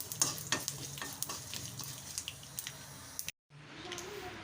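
Mustard seeds, urad dal, curry leaves and asafoetida fry in hot oil while being stirred, giving a close crackling sizzle with scraping spoon strokes, broken by a brief silent cut before the sizzle resumes.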